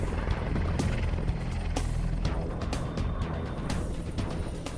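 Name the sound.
AgustaWestland EH-101 helicopter flying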